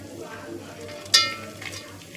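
Rice with cardamom powder, chunky dry fruits and grated coconut frying in a pan, with a soft steady sizzle and one sharp clink of a spoon against the pan midway.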